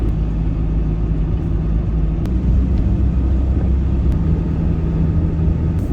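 A camper van drives at night on an Arctic road toward Tromsø, a steady low engine and road rumble close inside the cabin with faint ticks and no voices.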